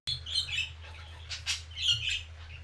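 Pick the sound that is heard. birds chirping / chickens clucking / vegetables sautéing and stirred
birds chirping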